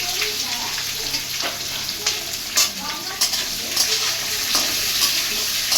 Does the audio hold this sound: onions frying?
yes